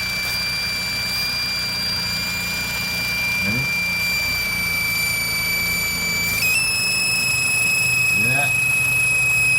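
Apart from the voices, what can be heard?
Nissan Altima engine high-pitched squeal from intake leak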